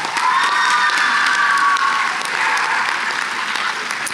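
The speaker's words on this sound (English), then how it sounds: "let's give her a round of applause" A large audience at an awards ceremony bursts into loud, sustained applause with a few cheers and shouts, holding steady for several seconds before easing slightly.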